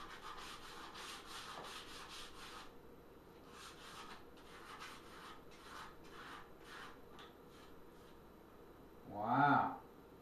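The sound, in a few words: scuffing paint off a wooden table pedestal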